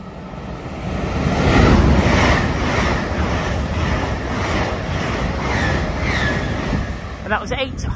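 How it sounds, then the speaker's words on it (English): An LNER Aberdeen to London King's Cross service rushes past at Wallyford, a broad roaring wash that swells, then holds as a rhythmic rumble with faint periodic clatter, heavy wind buffeting over it. "Passing through now is an LNER service from Aberdeen to London King's Cross"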